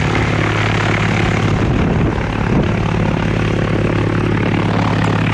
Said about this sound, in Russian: Разве на таком моторе можно летать?